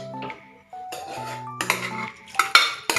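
Metal pots and utensils clatter and clink as frying capsicum curry is moved from a pan into a small pressure cooker, with several scraping knocks and bright clanks close by and no talking.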